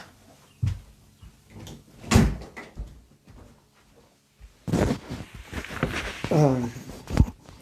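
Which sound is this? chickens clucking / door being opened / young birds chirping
door being opened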